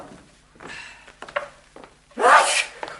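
In a French audio drama based on Tintin, a character sneezes from sneezing powder: a few short sniffs and catches of breath build up to one loud, close sneeze, with some rustling around it.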